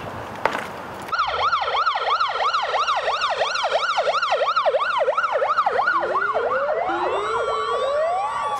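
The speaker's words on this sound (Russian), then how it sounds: "Включенная сирена и мигающие проблесковые маячки." An ambulance siren wails loudly and close in a steady, rapid up-and-down cycle, with a second siren tone joining near the end, after a brief burst of traffic noise at the start.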